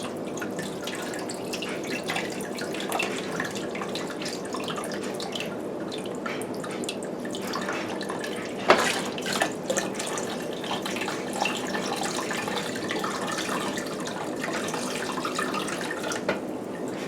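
White vinegar splashes and trickles inside a coffee maker during cleaning, poured over mineral deposits as a steady close-up wash of dripping and running liquid with one sharper splash midway.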